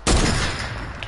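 A sniper rifle shot in a video game cracks sharply once, loud and close, followed by a decaying echoing tail.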